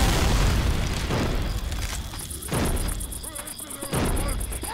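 Pipe bomb blast in the video game Left 4 Dead 2, with several loud booming bursts rumbling through a busy, noisy game soundscape, each burst followed by a fading low roar.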